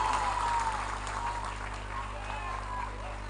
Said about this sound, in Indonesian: Monggo paringi tepuk asta.